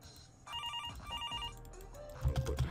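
Telephone ringing in a horror video game, a repeated electronic ring in two bursts at moderate volume, then low rumbling game sounds and a held tone.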